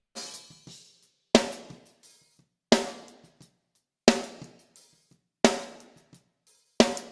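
Snare drum run through a gate or expander: strong, bright backbeat hits about every second and a half, each decaying quickly into silence, with faint ghost strokes between, close and without voices.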